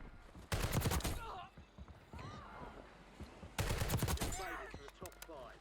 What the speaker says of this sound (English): Wait, somebody's shooting above me.